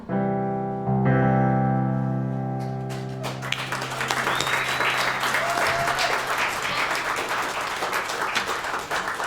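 At a singer-songwriter showcase, a live audience applauds after a song. The last sustained notes ring out and fade, then loud, steady clapping with some crowd noise takes over and carries on for several seconds.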